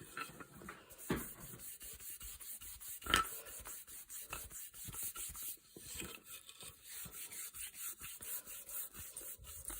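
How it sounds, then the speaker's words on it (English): Rubbing and burnishing of a Beretta 690 wooden shotgun stock with oil: a steady, close-up rasping friction that runs the whole time, with one sharper scrape near the start and no talking. "the presence of oil, which is often the case, has allowed me to burnish that up"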